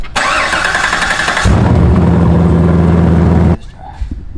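A car engine cranks and catches after its air filter has been recharged, starting with a loud burst, then settling into a steady, rumbling idle for a couple of seconds before cutting out abruptly.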